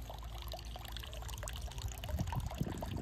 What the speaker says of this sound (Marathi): या ठिकाणी आम्ही एक छोटासा वॉटर फाउंटेन लावलेला आहे.